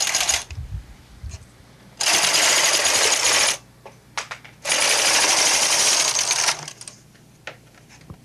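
Knitting machine carriage sliding across a neck ribbing on a home machine knitter, two long rasping passes, loud and close, separated by quieter clicks and handling noises.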